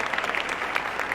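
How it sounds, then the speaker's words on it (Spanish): An audience at a public accountability event in Peguche, Imbabura, Ecuador, claps steadily for the minister, dense applause throughout, moderately loud. "Un aplauso para la ministra."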